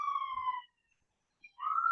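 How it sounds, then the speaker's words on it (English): A police siren wails in the background as a steady tone, breaking off for about a second midway before rising again, with no talk over it. "You're hearing that siren in the background."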